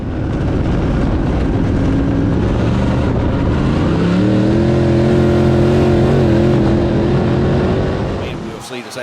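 A race car engine roars and revs continuously during practice at Swainsboro Raceway, pitch rising and falling as it accelerates, loud and close, with a voice faintly underneath.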